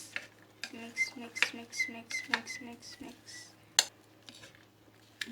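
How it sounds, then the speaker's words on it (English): Bread pizza topping with Italian seasoning being stirred in a bowl, giving a quiet run of clinks and scrapes from a utensil against the bowl in an irregular rhythm, close by. "Now we have to mix it all"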